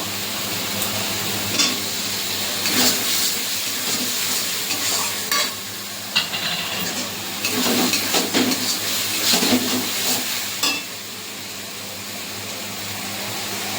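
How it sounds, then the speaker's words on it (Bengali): Ginger garlic paste and tomato frying in a pan for a Bengali spiced liver dish, a loud continuous sizzle with repeated scraping stirs of a spatula throughout. "আদা রসুনটা আমি ভালো করে কষিয়ে নেব"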